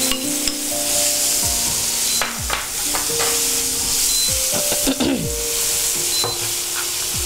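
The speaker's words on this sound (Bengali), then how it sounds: "দাঁড়া, পেঁয়াজটা ভাজা হোক" Diced onion fries in a pan with hot oil and a pinch of asafoetida, sizzling loudly and continuously while a spoon stirs and scrapes against the metal.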